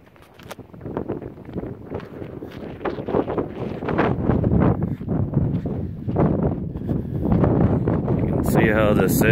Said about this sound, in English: Gust at 45 miles per hour inside Mesita, Colorado.